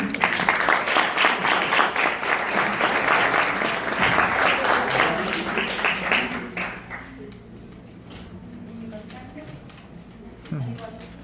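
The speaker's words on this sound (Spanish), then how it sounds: "Un aplauso." Audience applause at the close of a lecture in a conference series, loud dense clapping for about seven seconds that then fades out, leaving a quiet room with scattered small noises.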